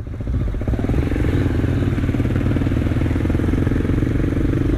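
A KTM SMC 690 single-cylinder motorcycle rides along close by, its engine thumping in a loud, steady, rapid pulse at constant throttle, with no talk.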